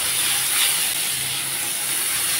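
Dried red chili pieces and nigella seeds hit hot oil for a tempering, making a loud, steady, close sizzle and hiss that carries on without a break.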